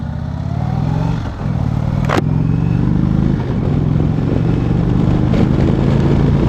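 Indian Chieftain Limited motorcycle cruising through corners, its engine a steady, loud low drone with wind roar, one brief gear-change dip partway through, heard alone without talk.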